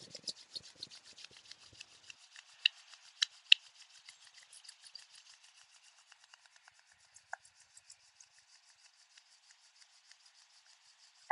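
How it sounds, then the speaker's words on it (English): Dry, papery friction of two hands rubbing briskly together, close and quiet, with a steady scratchy texture that tapers off into faint scattered brushes and near silence. "And rub your hands together."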